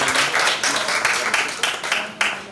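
Audience applause at a high school debating competition, a lively burst of many hands clapping with distinct individual claps standing out, steady and fairly loud.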